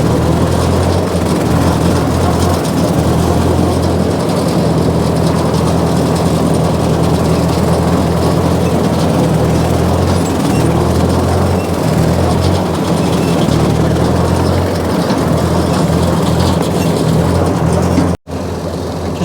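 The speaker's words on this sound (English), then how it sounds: "the brush hog is just about the same width as the tractor" A tractor runs a brush hog rotary cutter that is about as wide as the tractor, making a steady, loud engine and blade drone with low rumbling harmonics. The noise cuts out briefly near the end.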